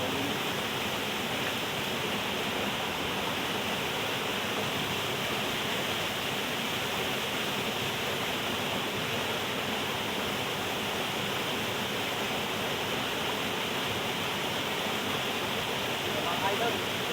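Small stream waterfall outdoors, a steady broadband rush of falling water that stays constant and fairly loud throughout, with no breaks or voices.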